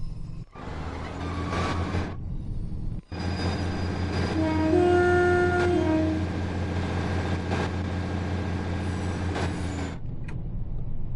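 The Flying Scotsman steam locomotive on the Riviera line in Train Sim World 6 rumbles steadily as it departs. A sustained whistle tone rises midway through, and the sound cuts out briefly twice near the start.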